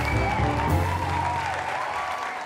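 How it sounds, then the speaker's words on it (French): A studio audience claps steadily for a guest on a French television show, a dense wash of applause that holds fairly loud throughout, with a faint musical tone running underneath. "On applaudit encore pour Vetcho Lolas, s'il vous plaît."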